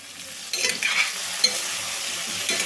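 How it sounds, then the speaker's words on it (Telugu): A spatula stirs raw banana fry coated with chili powder in a hot pan, giving a few soft scraping strokes over a steady, gentle sizzle, close by and with no voices. "ఇదిగోండి ఒక్కసారి ఇట్లా కలుపుకోండి లైట్గా బాగా వేగాలండి"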